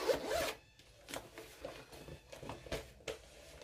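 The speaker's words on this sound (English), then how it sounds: "So when you unzip it, that's what it looks like." Zipper of an Itty Bitty Organiser case being unzipped, close and clear, in several quick rasping pulls separated by brief pauses.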